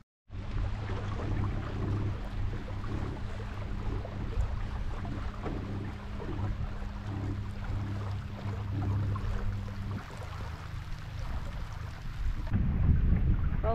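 Continuous cold rain at 43 degrees Fahrenheit in Ohio, with wind and a low steady rumble, a dense broadband wash lasting the whole stretch, no voices.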